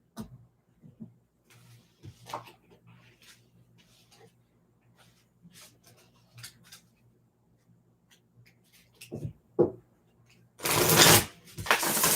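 Soft riffling and card flicks scattered across a quiet room, ending in a loud, dense burst of rapid shuffling near the close.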